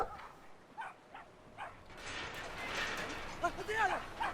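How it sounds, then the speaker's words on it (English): A small dog in the video game Brothers: A Tale of Two Sons gives a few short, light yips and whimpers over a soft game ambience, and someone talks over part of it. "we can release the deadly, deadly hound of that little dog"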